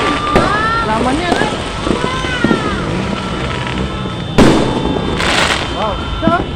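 Fireworks crackle and pop in the distance over continuous crowd noise in Cotabato City, with people talking and shouting nearby and a couple of louder bursts.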